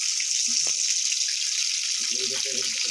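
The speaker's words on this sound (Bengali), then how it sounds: "মাছগুলো আমি ভেজে নিই, তারপর দেখি।" Fish fry in hot oil with a constant bright, close sizzle, and a short low-level voice murmurs briefly beneath it.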